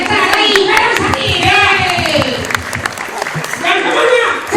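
An audience at a Balinese Arja performance claps in a loud, rhythmic burst of applause, close and dense, while voices talk and call out over it.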